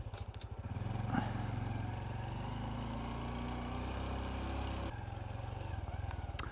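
Motorbike ridden along a private road on the way to Hadrian's Wall, its engine putting out a steady, close, low throbbing drone that shifts slightly in tone partway through, with no talk.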